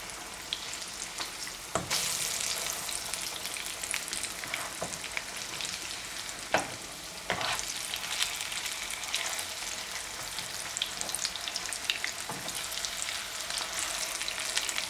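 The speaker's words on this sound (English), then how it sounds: "my bean burgers have been cooking for 5 minutes" Black bean burgers sizzle steadily in a hot pan, a dense continuous crackle with a few sharper pops and clinks of a utensil, close and with no talking.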